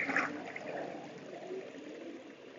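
Water is poured from a 3.5-gallon barrel into a wooden beehive feeder, making a short, soft, continuous pouring and trickling rush, close by and fairly quiet.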